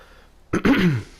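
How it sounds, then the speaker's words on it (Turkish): A single person clears their throat with a short, close cough-like burst, a sharp onset followed by a rough rasp that fades over about half a second, during a Turkish-language God of War PS4 playthrough. "Çok pardon burada öksürdüm."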